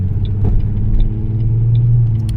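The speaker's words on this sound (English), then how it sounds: "Y'all can kind of tell, like, it's a lot of traffic out here right now." Steady city road traffic in Dallas, Texas, heard from inside or beside a car: a loud continuous low rumble of engines and tires with faint higher clicks over it.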